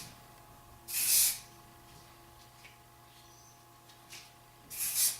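Two short, sharp hisses of an aerosol hairspray, one near the start and another near the end, with quiet background hum between them.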